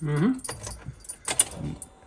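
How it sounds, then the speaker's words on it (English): Car keys jangle and scrape as a key goes into the ignition of a Kia Venga, close and fairly loud, with a short clink and softer rustling after. "So put the key in ignition."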